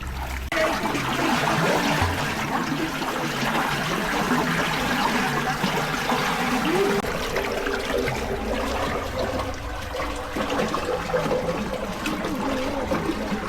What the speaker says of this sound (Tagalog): Talagang umaagos yung tubig mo, makikita.